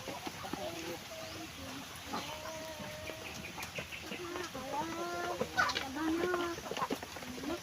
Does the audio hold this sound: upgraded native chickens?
yes